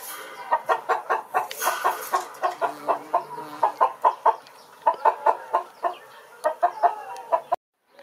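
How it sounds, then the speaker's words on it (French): Young roosters cluck in a quick series of short, close calls, repeated rhythmically with small pauses, ending in sudden quiet. "maintenant que je vous ai montré les 2 jeunes coqs"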